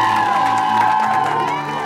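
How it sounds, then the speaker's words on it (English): Office workers in a cubicle setting cheer and whoop loudly as a group, a continuous burst of crowd noise lasting about two seconds. "Everybody cheer her on"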